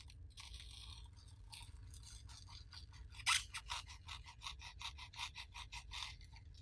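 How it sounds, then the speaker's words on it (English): A small foam cutter trims the swollen dried spray foam on a moss cross door hanger, giving a quiet series of close crunching, scraping strokes in an irregular rhythm. "I'm gonna use my little foam cutter to cut off the arch of the bubble here"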